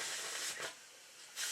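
A Stuart beam steam engine runs with oil injected into its cylinder, giving off a soft, steady steam hiss that swells briefly in a couple of places, heard alone.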